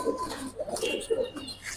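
Close, steady cooing from Giribaz and colored fancy pigeons in a loft, several soft rolling calls in a row with little talk over them.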